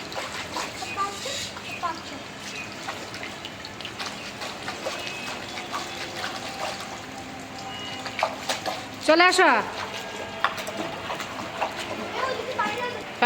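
Heavy rain pours and water splashes in a steady wash, with occasional louder splashes, while people talk over it.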